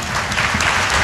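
An audience at a devotional kirtan performance in Maharashtra claps together in a dense, loud, steady burst of applause that fills the whole short moment.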